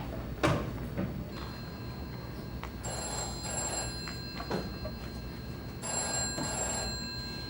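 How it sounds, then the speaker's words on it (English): Telephone bell ringing on stage during a musical theater performance, repeated bursts of loud electric ringing with brief pauses between, heard alone without talk. "You manage to be happy for 5 seconds, and then something starts ringing."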